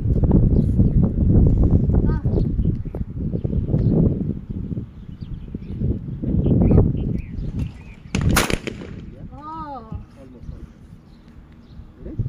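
Shotgun shots at an outdoor clay shooting range in Dubai: loud blasts, one sharp and prominent near the end, amid constant talk and cheering from people nearby.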